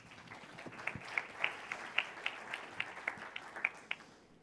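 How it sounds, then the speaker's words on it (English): An audience at the Global AM Summit 2025, an additive manufacturing conference, claps in a round of applause, faint and somewhat distant, with a few sharper individual claps standing out in an uneven rhythm. "Let's give all of them a big round of applause."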